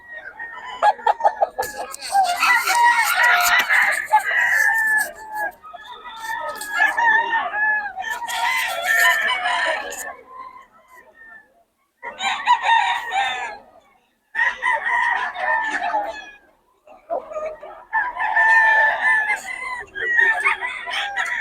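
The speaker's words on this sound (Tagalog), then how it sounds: "Mga manok ni boss yun, mga boss." Several roosters crow in overlapping, drawn-out calls, loud and close, with short pauses between bursts and occasional clucking.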